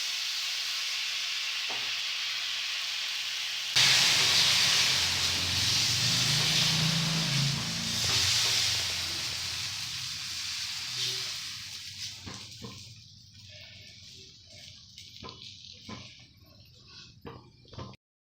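Carrot-and-curry-leaf adai dosa batter sizzles in oil on a hot pan, a loud hissing burst that fades into softer crackles and pops, with a brief voice in the background.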